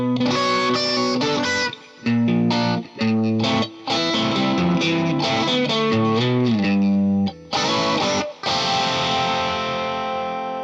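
Electric guitar played through an amp with an Enieqma EQ pedal set as a pure volume boost, giving a thick, distorted tone; chords and riffs ring out in bursts separated by brief pauses, loud and close with no talking.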